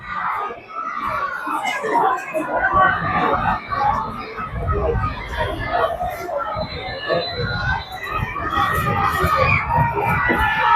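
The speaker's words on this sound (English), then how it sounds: "Screaming for their team to defend." A football crowd at the Vanua Levu Muslim IDC final between Seaqaqa and Vunimoli at Subrail Park, Labasa, shouts and screams steadily for their team to defend, a sustained mass of voices with a commentator talking over it.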